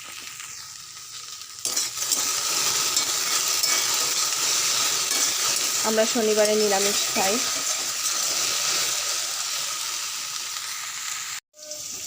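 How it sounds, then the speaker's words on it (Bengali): Bhindi frying in a pan at home, a loud, continuous close sizzle that jumps up when stirring begins, while someone speaks briefly over it midway. "আর এখানে ভেন্ডি ভাজা বসিয়েছি"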